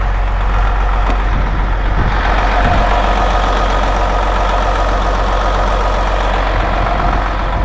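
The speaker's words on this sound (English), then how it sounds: "All right, let's check out the engine." Detroit Series 60 12.7-litre diesel idling in a 2001 Setra S217 59-passenger motorcoach, a loud steady low rumble heard close up with no talk over it.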